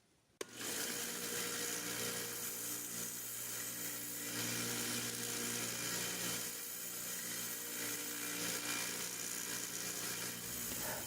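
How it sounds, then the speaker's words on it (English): A belt sander fitted with a 400 grit belt runs continuously while smoothing the bolster of a Schrade Walden 804 Whittler pocket knife, starting with a sharp switch-on and then holding a loud, steady abrasive whir. "What I'm doing is using a 400 grit belt, and I'm continually moving the bolster against the sanding belt"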